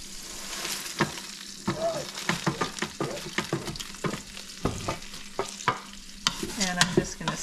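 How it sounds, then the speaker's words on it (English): Freeze-dried carrots and celery sauté in butter inside an Instant Pot, with a steady sizzle and a busy run of stirring scrapes and taps throughout. "I am just adding about a tablespoon of butter to the Instant Pot, and I'm going to toss in the veggies."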